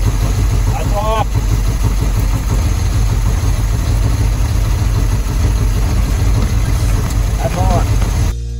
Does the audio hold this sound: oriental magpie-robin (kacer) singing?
no